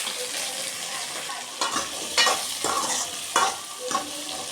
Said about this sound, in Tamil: அப்படியே எண்ணெயில் வேக விட்டுக்கிறோம் தேவையான அளவு உப்பு போட்டுக்கிறோம்